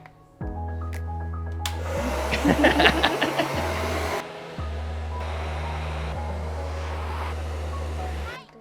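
Hair dryer fitted with a diffuser running on medium heat and high speed, a loud steady blowing hum that starts just after the beginning, briefly dips and shifts in tone, then carries on to the end.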